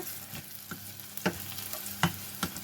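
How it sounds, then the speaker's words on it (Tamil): Onions sauté in a pan for a mung bean milk curry, a steady close sizzle broken by several sharp scraping stirs, with no talking. "இப்போ வெங்காயம் வதங்கி வந்துடுது."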